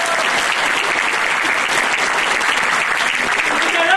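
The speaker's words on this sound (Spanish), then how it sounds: "Te voy a pedir el último de los aplausos" Crowd applause at a quinceañera party in Chalcatongo: steady, dense clapping from many hands, loud and sustained throughout without pause, with faint voices mixed in.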